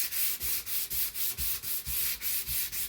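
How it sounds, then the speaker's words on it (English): Rhythmic sanding on stained tongue-and-groove wood paneling, steady back-and-forth strokes about twice a second, close and dry, with no voices. "It's a bit rough, but then once it gets sanded"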